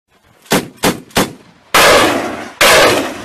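Gunfire during an army offensive against ADF rebels in Ituri: three sharp close shots in quick succession, then two heavier, longer booming bursts that ring out.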